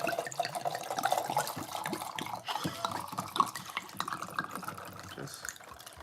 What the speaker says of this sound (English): Just pouring a small drink.